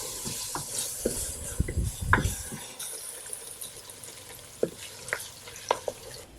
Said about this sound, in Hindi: अब इन सारी चीज़ों को हम अच्छी तरह फ्राई कर लेंगे।